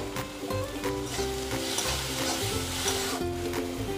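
Chopped green chilli fries in a pan for egg tarka dal, a loud continuous sizzle broken by stirring scrapes, with a low tonal hum running underneath.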